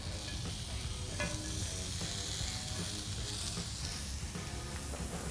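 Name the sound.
onions sizzling on a charcoal griddle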